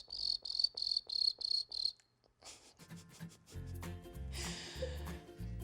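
A person imitates cricket chirping by vibrating the roof of the mouth, producing a quick run of six evenly spaced, close shrill chirps, after which laughter and chatter follow.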